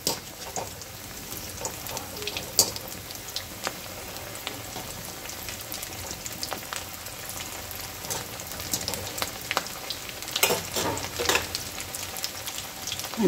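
Barule, an Aligarh-style fried snack, frying in hot oil with a steady, bright sizzle and crackle throughout, scattered pops and spatters rising louder toward the end.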